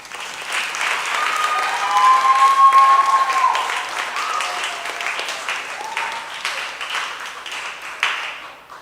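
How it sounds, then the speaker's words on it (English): A graduation audience at a junior school ceremony gives loud, sustained applause, dense clapping from a crowd that swells and then slowly tapers, with a faint tonal whine or whistle briefly rising above it. "Let us give a round of applause to our heroes."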